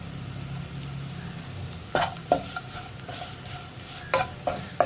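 Curry leaves hit hot oil in a pan with onions for a hotel-style salna. A low sizzle runs under a series of sharp scraping stirs from a spoon against the pan, with no voices.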